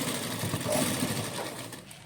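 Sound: sewing machine stitching lace onto a dupatta

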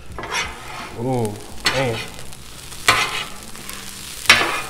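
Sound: shrimp fried rice being mixed on a Blackstone griddle

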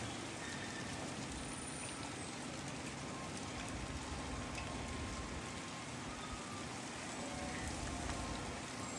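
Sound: rain falling

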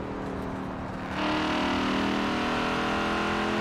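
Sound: Audi RS6 police car engine in video game Forza Horizon 4

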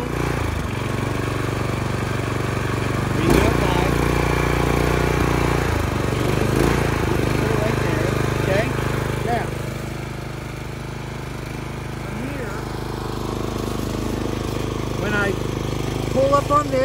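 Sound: Troy-Bilt Bronco garden tiller engine running after starting

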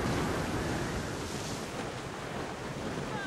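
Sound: wind and waves at sea in video game Assassin's Creed Rogue

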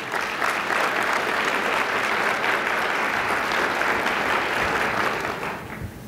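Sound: audience applause

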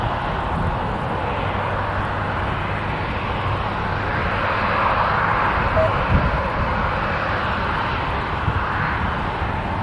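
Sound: Southwest Boeing 737 Max 8 jet airliner

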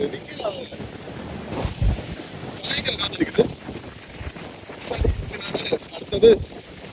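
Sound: strong wind on the coast

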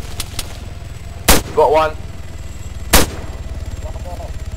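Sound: gunfire in the video game Arma 3

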